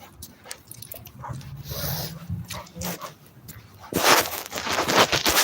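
Dog whimpering and snorting close by, with short breathy sniffs and whines in uneven bursts, growing louder and more rustly toward the end.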